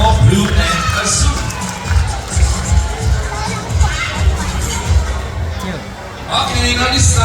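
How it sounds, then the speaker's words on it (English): An audience at a bird show, after a pair of blue and gold macaws performs, cheers and applauds in a loud, lively crowd din with children's shouts, swelling again near the end. "now a round of applause for a beautiful pair of blue and gold, Macau Blue and Azul."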